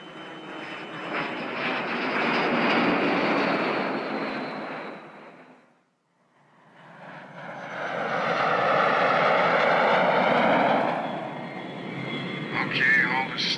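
Airplane engine on a military training flight's landing approach, a steady droning hum that swells, fades nearly to nothing, then returns louder with rising harmonic whine; a voice talks over it.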